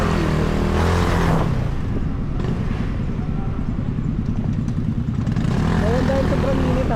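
Motorcycle engine running steadily up close in hot weather, a continuous loud low rumble throughout with brief traffic noise.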